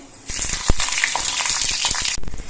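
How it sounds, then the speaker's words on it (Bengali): Slit green chillies drop into hot mustard oil already frying black cumin, bursting into a loud, close sizzle with sharp crackles and spits that holds for about two seconds before easing. "এবার এর মধ্যে আমি কয়েকটা চেরা কাঁচা লঙ্কা দিচ্ছি"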